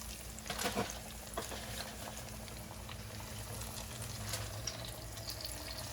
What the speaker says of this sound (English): I'm going to put in these, I have 3 more pieces to fry